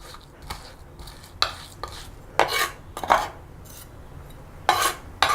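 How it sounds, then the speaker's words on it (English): Chopped garlic is smushed and regathered with a knife on a cutting board, producing a series of irregular scraping and tapping bursts separated by short quiet gaps, close and moderately loud. "And just smush away, regather your garlic."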